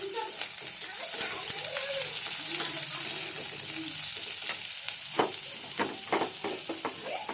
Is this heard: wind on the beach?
no